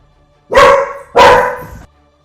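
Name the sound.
dog barking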